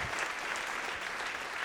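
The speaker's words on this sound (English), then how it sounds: "can I get another round of applause for Adam" A theater audience applauds a pianist at a live comedy show, steady dense clapping filling the room at moderate volume for the whole stretch, with no talk over it.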